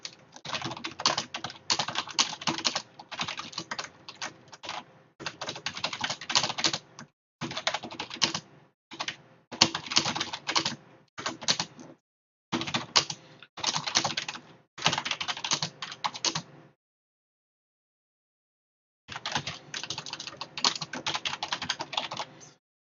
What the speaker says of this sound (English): Forgive my noisy keyboard, but it is noisy.